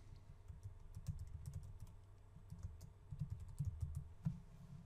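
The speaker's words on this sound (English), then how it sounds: "I can type in a description." Computer keyboard typing a description, a faint, close patter of soft key presses in uneven bursts with brief pauses, alone without talk.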